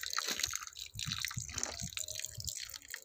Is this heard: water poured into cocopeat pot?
yes